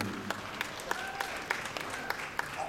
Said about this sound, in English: I wonder what you're applauding.